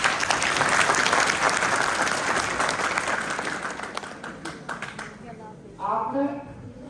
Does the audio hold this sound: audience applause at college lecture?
yes